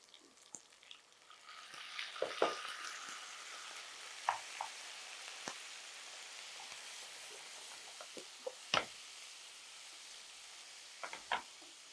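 Chicken added to a pan of lightly sautéed vegetables for a Kerala-style chicken stew, giving a soft, steady sizzle with scattered scrapes and clinks of stirring throughout, fairly quiet and heard alone.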